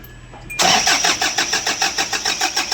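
A Kia Bongo III diesel engine, just back together after fuel injector, timing and rocker arm work, cranks briefly and catches, settling into a loud, close, rhythmic knocking idle.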